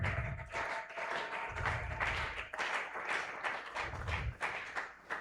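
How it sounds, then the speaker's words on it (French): A church congregation at a Pentecost thanksgiving service applauds in rhythmic waves of clapping, with low thumping and crowd noise beneath. "Est-ce que tu peux acclamer très fort pour la gloire de Dieu?"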